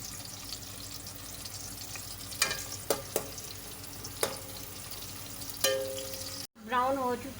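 Medium chopped onion browning in hot oil in a home kitchen pan, a steady soft sizzle with a few sharp clinks of utensils, then a brief gap before a voice speaks over it.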